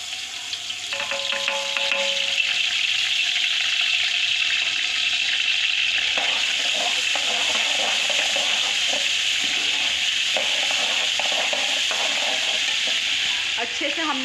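Onions frying with ginger garlic paste and garam masala for Peshawari qabuli pulao, a steady loud sizzle with scraping stirring clatter throughout and no talking.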